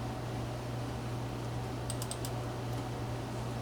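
A few quick computer mouse or keyboard clicks land close together midway, small and crisp over a steady low fan-like hum in a quiet room.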